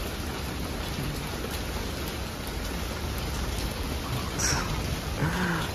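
Steady rain falls outdoors near a hill fort at Pali village in Maharashtra, a constant dense hiss of drops on surfaces, with a brief, faint sound rising near the end.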